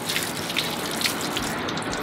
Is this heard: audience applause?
no